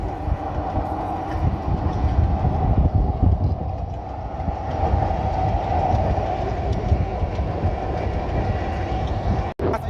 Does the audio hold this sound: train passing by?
yes